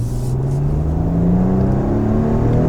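A Maserati Ghibli S Q4 in sport mode accelerating hard, heard from inside, a loud deep engine drone rising steadily in pitch over a constant road rumble, with no voices.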